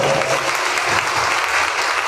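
A congregation clapping hands together at a church satsang gathering, dense and loud applause continuing throughout.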